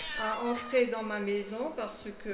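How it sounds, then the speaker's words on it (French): A stray cat meows in drawn-out, wavering cries close by, mixed with a person speaking French over it throughout. "C'est un chat, on ne peut pas vraiment lui faire confiance"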